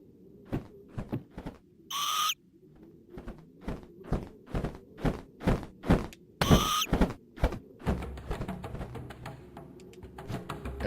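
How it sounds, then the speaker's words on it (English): Two shrill, piercing bird screeches from a bald eagle in the video game Karateka cut in briefly among a steady run of sharp thumping hits and footfalls, with denser game noise toward the end. "Did you just kick a bald eagle?"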